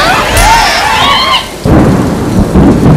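Heavy rain pours steadily while a deep thunder rumble rolls in partway through, loud and close, with a tonal musical swoop audible before the storm surges.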